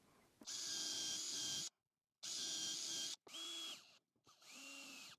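A power drill drives screws into wood to reinforce a simple woodworking jig, with four close, loud whirring bursts separated by short silences, the motor pitch rising and dipping as each screw seats.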